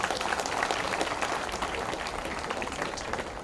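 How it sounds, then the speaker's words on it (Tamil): Audience applause for girls who sang the Tamil anthem, a dense, even burst of many hands clapping at a crowded hall event, loud and sustained throughout. "பாடின அந்த பிள்ளைகளுக்கு ஒரு கைத்தட்டு கொடுக்கணும்."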